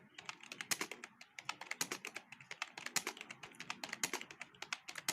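A computer keyboard clatters through typing practice, with fast, even keystrokes tapping in a steady rhythm close by and no voice over them.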